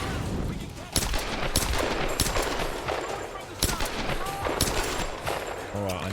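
Rapid gunfire in the 2013 video game Tomb Raider, bursts of sharp shots cracking at irregular intervals over a continuous bed of game sound and music, loud and close throughout.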